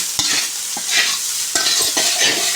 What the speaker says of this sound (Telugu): ఇలా బాగా కలుపుకోవాలి